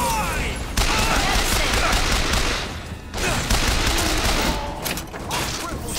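Heavy sustained gunfire in the video game Bioshock Infinite: a dense, loud barrage of shots and booms rolling almost without a break, with a brief lull in the middle.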